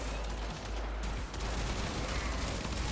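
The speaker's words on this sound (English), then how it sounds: "Just the constant sound of gunfire." Dense, continuous gunfire from the video game Warframe, a steady wash of rapid shots and explosions with no pauses.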